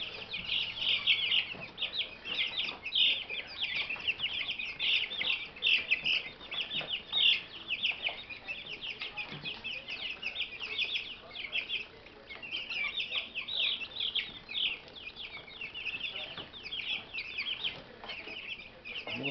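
Three-week-old Australorp chicks, a mix of young roosters and hens, chirp and cluck steadily at close range, a busy high peeping that runs on throughout with small dips.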